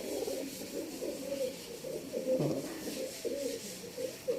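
A mature pigeon cock and hen coo in repeated low, burbling phrases close by, one throaty swell rising in the middle, with little else around.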